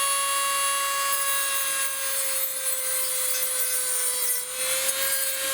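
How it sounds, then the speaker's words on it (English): A 3D printed plastic part is sanded steadily under a constant, whining motor-like tone, with continuous close rubbing and grinding and no talk. "I'm going to sit here and sand away at this till I get it down to where I want it to be"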